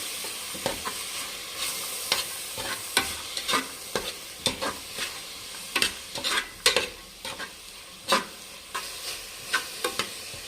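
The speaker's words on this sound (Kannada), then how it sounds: "ಇವಾಗ ಬಟಾಣಿ, ಇದು ಕೂಡ ಚೆನ್ನಾಗಿ ಫ್ರೈ ಮಾಡಬೇಕು ಸೊಪ್ಪಲ್ಲಿ" Peas frying with half-cooked fenugreek greens in a pan, a steady close sizzle broken by frequent sharp scraping stir strokes throughout, with no talking.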